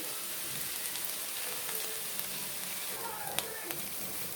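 Banana stem and potato fry in a pan, a faint even hiss of oil like light rain with an occasional sharp tick of a utensil, heard up close and without speech.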